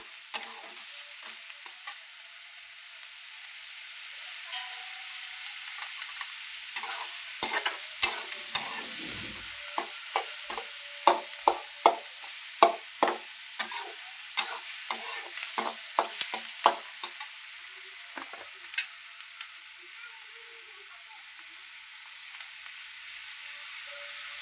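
Masoor dal cooking in a pan with onion and tomatoes, a soft steady sizzle broken by a run of clicking stirring strokes of a spoon against the pot, close and fairly quiet, no talk.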